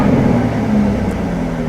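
A Jaguar F-Type idles with its exhaust button on, giving a deep, steady growl close to the microphone with a sustained low drone and no speech.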